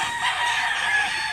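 A fighting rooster of about nine months, shown for sale in Mantalungon, Barili, Cebu, gives one loud, close, continuous crow over a quiet background.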